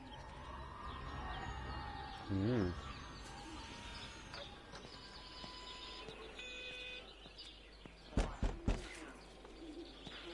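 Soft pigeon-like cooing and chirps from birds in the video game Everybody's Gone to the Rapture, a brief warbling call standing out over a low ambient bed, with a few sharp knocks near the end.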